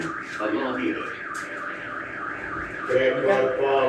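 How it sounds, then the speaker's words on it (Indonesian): A poultry house machine alarm on a Big Dutchman Viper Touch controller warbles continuously in a rising-falling tone, fairly loud, with a second beeping tone joining near the end. "Ini alarm kan? Ya. Nah, nanti bunyi."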